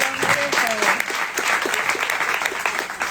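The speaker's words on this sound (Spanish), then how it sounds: "un aplauso para Berta" Audience at a book presentation breaks into hearty applause, a dense continuous wash of clapping lasting about three seconds, with a few voices mixed in.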